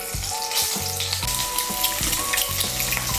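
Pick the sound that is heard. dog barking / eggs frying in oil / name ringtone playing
eggs frying in oil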